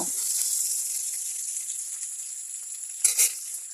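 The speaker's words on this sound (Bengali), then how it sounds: "কড়ায় তেল দিয়ে দেব তেলটা গরম হয়ে গেলে দিয়ে দেব থেতো করে রাখা রসুন" Crushed garlic sizzles in hot oil in a kadai and is stirred. A bright, constant hiss plays close and alone, with a brief utensil scrape near the end.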